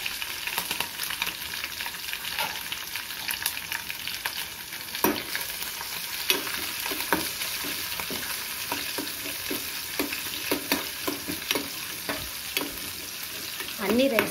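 Curry leaves, garlic and green chillies fry in hot oil for coconut rice, giving a loud, continuous sizzle with frequent stirring scrapes and crackles, no voices.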